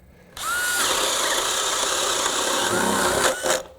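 A DeWalt cordless drill fitted with a self-feed bit bores through wood in cold conditions, starting abruptly and holding a steady, loud, gritty whirring grind for about three seconds before winding down.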